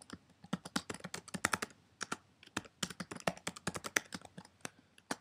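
Rapid typing on a computer keyboard while writing AppleScript code, with close, crisp key clicks arriving in quick bursts separated by short pauses, heard alone with no talking.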